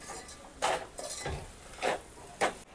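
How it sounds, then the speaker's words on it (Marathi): Onion and tomato being sautéed in a pan for pav bhaji, heard as a few soft scraping stirs of a spoon against the pan with a faint sizzle underneath, spaced irregularly and close by. "इकडे आपला कांदा टोमॅटो परतून होतोय"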